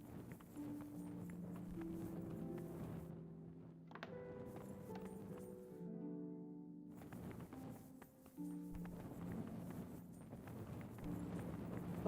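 Horse hooves clop along in Kingdom Come: Deliverance, a steady rhythmic walking beat at moderate distance, set against game music and brief pauses.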